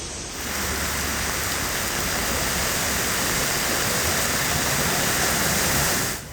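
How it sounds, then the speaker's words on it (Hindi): Torrential downpour during widespread flooding, a dense, steady roar of heavy rain with a rushing, water-like texture, loud and continuous throughout with no voices. "कहीं मूसलाधार बारिश ने बर्बादी मचा रखी है"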